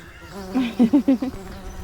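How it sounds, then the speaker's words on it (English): A bee buzzes in a vegetable and flower garden, a close, loud series of about five short pulsing hums in a row that stand out against a quiet background. "Oh, there's a bee."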